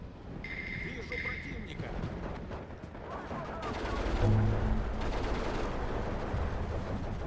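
Maxim machine gun fire in the Steel Division 2 WW2 strategy game, a steady crackle of automatic bursts and scattered gunshots mixed with battle noise, continuing throughout at moderate loudness.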